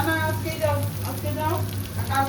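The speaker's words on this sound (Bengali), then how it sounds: "একটু ঘি ফোড়ন দিয়েছি, আর গোটা গরম মশলা ফোড়ন দিয়ে আদা রসুন পেস্টটা দিয়ে এখন ভাজছি।" Ginger garlic paste fries in ghee with whole garam masala, giving a steady, close sizzle with faint voice-like tones in the background throughout.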